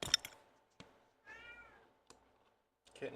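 A kitten lets out one soft, rising meow, faint and close in a quiet room, with scattered light clicks and knocks before and after.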